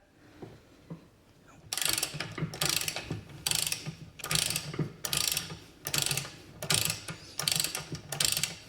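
A ratchet wrench loosens the propeller nut on a bass boat, giving about eight close, rhythmic bursts of rapid clicking with brief pauses between strokes.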